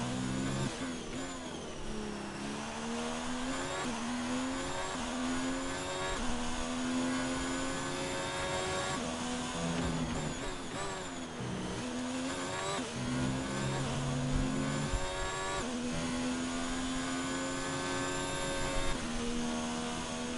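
Race car engine in an F1 video game, revving continuously with rising and falling pitch through gear changes, a loud, steady whine that fills the whole stretch, with no talking.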